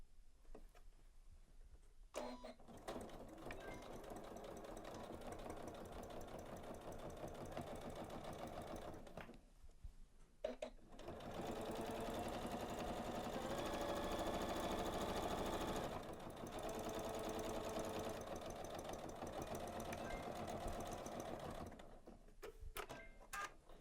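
A Janome sewing machine stitches a bag over braided trim with the presser foot raised high, giving a steady, close mechanical whir in two long runs split by a brief pause.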